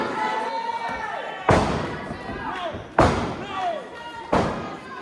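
A pro wrestler crashes down onto his opponent's head in the ring at an SCW wrestling show. Several heavy thuds land roughly every second and a half, with crowd noise behind them and a commentator talking throughout.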